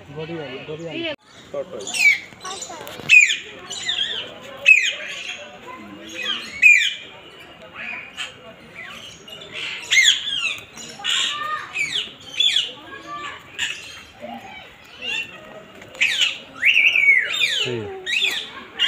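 Many birds squawk and whistle in sharp, repeated bursts at the Guwahati zoo in Assam, a busy chorus of calls with people chattering in between.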